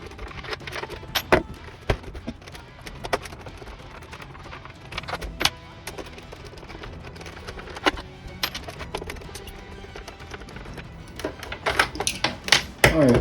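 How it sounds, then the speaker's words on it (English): Screws being removed from an original Xbox console, with a series of close, sharp clicks and metallic taps from a screwdriver working irregularly, growing busier toward the end. "And then you just want to take all these 6 screws out."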